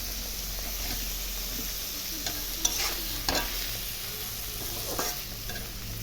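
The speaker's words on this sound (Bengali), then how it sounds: "টমেটোটাও একসঙ্গে দিয়েই ভাজবো।" Tomato frying in a pan with a little salt, a steady close sizzle under occasional stirring scrapes and soft clicks from a utensil, with a couple of slightly louder stirring moments.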